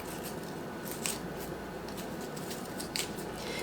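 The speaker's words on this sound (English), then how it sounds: "On the apple, I just use this and I core it and get it out of there best I can." An apple being cored by hand with a small tool, giving a steady close scraping and crunching texture with a couple of sharper snips, no voices present.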